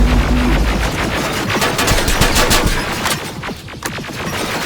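Dense automatic gunfire from soldiers in Terminator: Resistance, rapid overlapping bursts of machine-gun shots rattling nonstop at close range, loud and chaotic with no talk.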